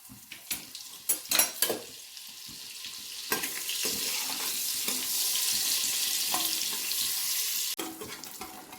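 Butter and cumin seeds hit hot oil in a pan for quick pav bhaji: a few sharp clatters come first, then a loud, steady, hissing sizzle swells and holds close by, with no voices.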